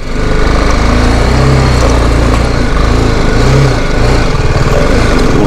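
A motorcycle engine runs loud and close on the way to a waterfall, a continuous buzzy drone with a fast pulsing beat and small rises in pitch as it pulls along.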